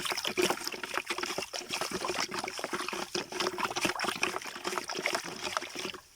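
Amino acid fertilizer powder being stirred into water in a tank, giving a continuous sloshing, trickling wash of moving water that stays fairly steady and close, then stops abruptly near the end.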